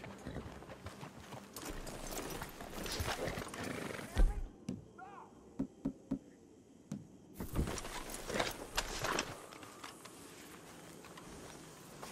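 Horses in Red Dead Redemption 2 clop along on hooves, a run of close, distinct footfalls among rustling game ambience, with a character's voice speaking nearby.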